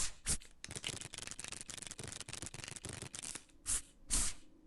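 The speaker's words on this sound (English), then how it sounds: "And we're going to shuffle." Rapid riffle shuffling of playing cards in a blackjack video game, a dense run of crisp card flutters lasting several seconds with a few louder bursts near the end, no voices.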